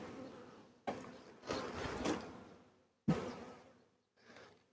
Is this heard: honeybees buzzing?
yes